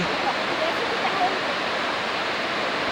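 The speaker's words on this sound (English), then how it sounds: "This is Iguazu Falls from May of 1993." Iguazu Falls on the Argentina–Brazil border: a steady, dense roar of falling water, constant and unbroken throughout.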